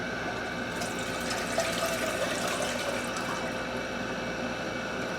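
Water is poured steadily into a cooking pot to make rice in a home kitchen, a continuous moderate splashing and trickling stream that runs throughout and ends with a brief clatter.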